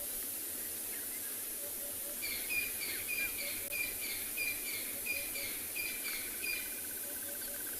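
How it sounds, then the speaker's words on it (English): Repeated high chirping calls of birds ring out over a steady hiss of insects, distant and layered like a dawn chorus at sunrise on an African safari reserve. "It's just stunning hearing this dawn chorus in the background."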